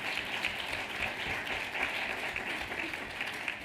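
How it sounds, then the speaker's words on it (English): Steady audience applause at a live event in Lugano fills the room evenly for its whole length, many hands clapping at a constant level with no pauses. "Give a round of applause to Elena."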